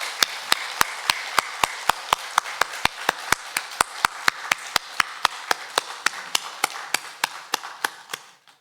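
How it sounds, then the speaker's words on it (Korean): Steady rhythmic clapping from a church congregation during a Sunday worship service at Gunpo Peniel Church, a long run of evenly spaced sharp claps, fairly loud and close, with no talk over it. "힘찬 박수로 주님을 찬양합니다."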